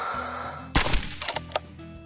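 A rifle fires once while hunting bighorn in the American Marksman hunting game, a sudden loud crack after quiet, followed by a rattling, echoing tail with a few smaller knocks.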